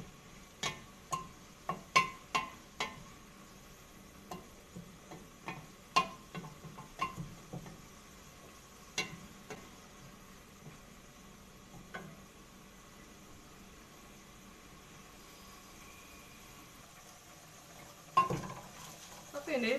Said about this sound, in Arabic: كان حرك في هاد البصلة حتى تتشحن مزيان